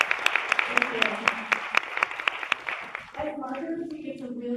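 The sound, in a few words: conference audience applause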